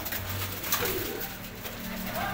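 About 35 pigeons coo softly in low, rolling calls close by, while someone speaks briefly in Hindi-Urdu over them.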